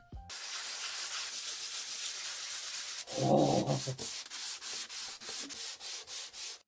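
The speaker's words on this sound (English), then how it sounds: "I can smooth it all out with a tiny bit of sandpaper ASMR" Sandpaper rubbing along the edge of a small clay model TV, a steady close scratchy rasp that turns into quick rhythmic back-and-forth strokes with no talking.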